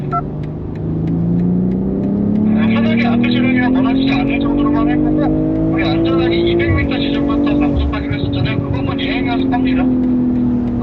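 BMW M340i accelerating hard on a wet race track, a steady engine drone climbing in pitch over several seconds, with a brief dip near the middle, continuous and close, mixed with someone talking throughout.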